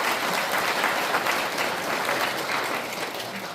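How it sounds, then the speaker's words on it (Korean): Steady, full applause from the audience at a Korean Provisional Government anniversary ceremony, welcoming a guest of honor, continuing evenly for several seconds. "큰 박수로 환영해주십시오."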